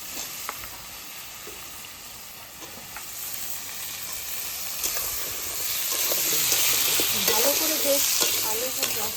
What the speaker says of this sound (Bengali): ভেজে নিতে হবে মশলাটা কিন্তু আমার বেশ ভালোভাবে ভাজা হয়ে গেছে এখন আলু দিয়ে দেবো